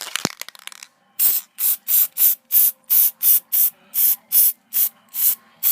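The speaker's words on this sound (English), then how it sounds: "we're going to spray it and shake it down" Hornady One Shot case lube sprayed from an aerosol can onto rifle brass for handloading 8x56mmRS: a few rattling clicks, then a rapid series of about a dozen short, loud, close hissing bursts.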